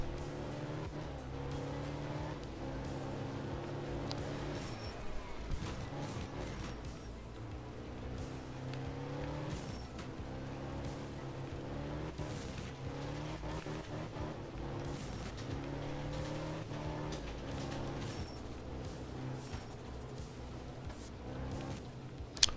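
A rally car engine in the video game art of rally drones steadily throughout, with shifting revs and gear changes, a continuous mid-level motor sound with no talk over it.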